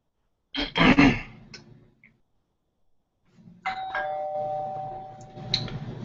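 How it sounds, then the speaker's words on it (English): A doorbell chimes once, clear and close, after a brief rustle and a short quiet pause. "That doorbell means it is time to stop your writing"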